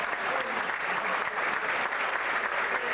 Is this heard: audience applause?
yes